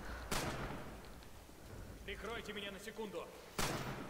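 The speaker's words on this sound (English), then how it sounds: "I love when the artillery yeah, lands next to you." Artillery shells landing nearby in the war video game Rising Storm, two sharp booming impacts about three seconds apart, with a voice talking briefly between them.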